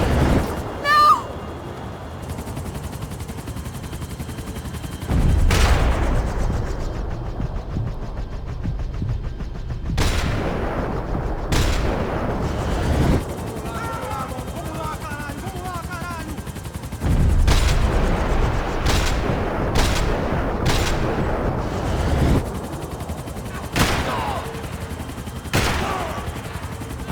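Repeated bursts of gunfire during a chase sequence in the Max Payne 3 video game, sharp loud shots and volleys spread through the scene, with shouting voices and heavy rumbling between them.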